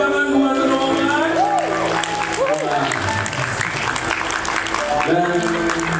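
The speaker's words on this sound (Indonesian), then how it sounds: "Berikan tepuk tangan buat rombongan." A church congregation applauds at a wedding ceremony, with steady clapping running throughout and voices and cheers mixed in.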